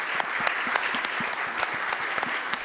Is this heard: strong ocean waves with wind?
no